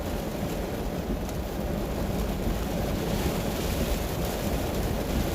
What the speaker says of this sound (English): Because it's raining. I don't want you guys to hear all the noise and whatnot.